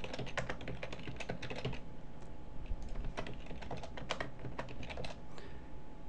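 Quick, quiet keystrokes patter on a computer keyboard as a password is entered, an irregular run of close, soft clicks continuing without pause and without talk.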